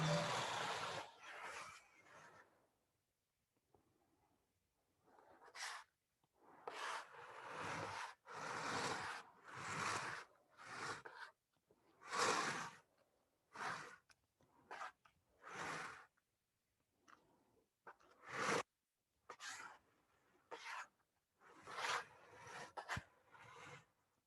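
Scraping a hollow-core clay vessel with a tool: repeated close, rough rasping strokes in irregular bursts separated by short pauses, with no talking.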